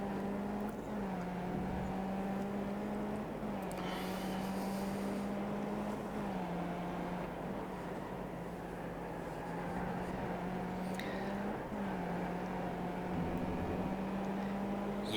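Race car engine droning steadily through a lap of iRacing, the pitch rising and dropping with brief dips at gear shifts, loud and continuous with no talk.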